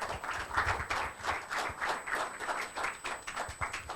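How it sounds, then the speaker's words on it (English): A round of applause from an audience at a venture capital talk in Mumbai, moderately faint, a sustained rhythmic patter of many hands clapping with no talking. "Vora with a huge round of applause."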